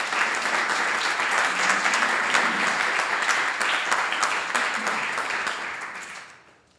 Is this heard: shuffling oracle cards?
no